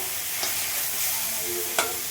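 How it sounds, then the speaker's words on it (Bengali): Banana flower being stirred and fried in a pan, giving a steady low sizzle with a few brief scraping stir clicks, close and alone with no talk. "এবার এভাবে নাড়িয়ে চাড়িয়ে সুন্দর করে মোচাটাকে দিয়ে কষিয়ে নেব।"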